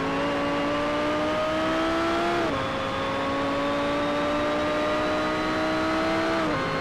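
A race car engine holds a steady high drone in Need for Speed: Shift 2 Unleashed, dipping briefly at two gear shifts before climbing again, loud and continuous with no talk.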